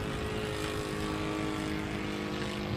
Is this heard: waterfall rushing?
no